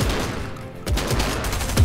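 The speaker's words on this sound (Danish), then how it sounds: "der er en, der skyder på mig" Rapid gunfire in Fortnite at Tilted Towers, a quick burst of shots over a steady background rumble.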